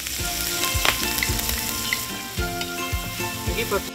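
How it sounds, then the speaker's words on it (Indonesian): Spice paste sizzling loudly while being stir-fried, a dense constant frying hiss broken by frequent scraping and clanking strokes of the utensil against the pan, close up. "Sekarang, aku mau tumis bumbunya lebih dulu."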